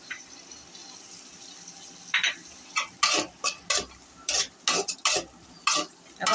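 Carrots, peas and onion with green chili are stir-fried in a pan. A low sizzle runs under a quick, irregular series of loud spatula scrapes and clatters against the pan.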